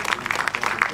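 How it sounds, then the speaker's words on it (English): Closing of a panel event, where an audience claps for the panelists, brisk dense applause filling the room, close and loud, with voices blended in. "Please give them a round of applause."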